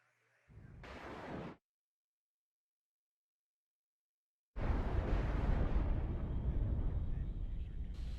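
Rocket artillery fires in the real-time strategy game WARNO: a one-second roaring burst, several seconds of silence, then a louder, sustained rumbling salvo that keeps going to the end.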